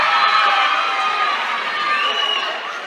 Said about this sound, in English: the crowd going